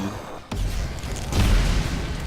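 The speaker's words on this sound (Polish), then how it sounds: "Uff, wybuch." A sudden loud boom bursts in, followed by a sustained rumbling roar that swells again midway, an explosion in the co-op game Magicka.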